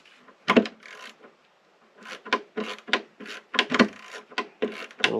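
A Leatherman Surge multitool bit loosening a screw, heard as short gritty rasping scrapes and creaks in uneven bursts, close and moderately quiet, with brief pauses between turns.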